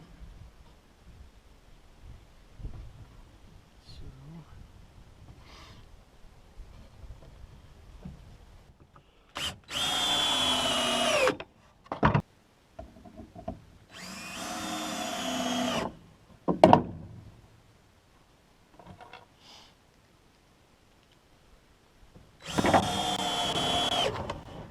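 A power drill drives 9 by 2.5 outdoor decking screws into the wooden sides of a raised garden bed, several short loud whirring bursts of a few seconds each, separated by quiet handling noises, close by.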